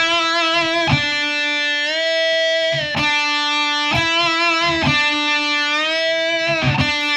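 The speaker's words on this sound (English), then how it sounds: "I would pull the whammy bar up to that pitch." Electric guitar with a Floyd Rose whammy bar playing a rhythmic exercise of sustained, distorted notes that repeatedly dip and rise in pitch through bar bends.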